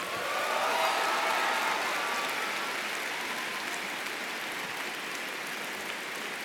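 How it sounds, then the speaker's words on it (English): Sustained applause from graduates at a 2018 university College of Engineering commencement ceremony, a dense, steady wash of many hands clapping in a large venue, loud throughout and slowly easing off. "Put your hands together now to show your family and your friends how you feel about them."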